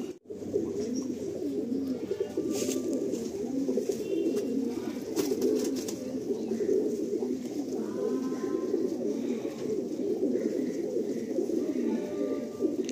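Andhra high flying pigeons coo in a continuous, overlapping chorus close by, soft rolling calls repeating throughout with no talk.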